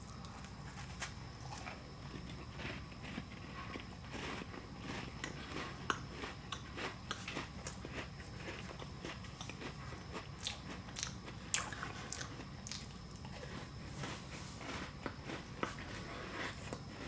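A caramel-flavoured snack is bitten and chewed close up, a steady run of crisp crunches and munching with occasional sharper bites, with no talking.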